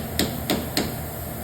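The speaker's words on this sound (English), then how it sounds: "I hit that on with the hammer because you want to make sure that's on good" A hammer strikes a bolt on a Chevy/GMC truck wheel three times at an even pace, each blow a sharp metallic knock, close and distinct against a steady background hiss.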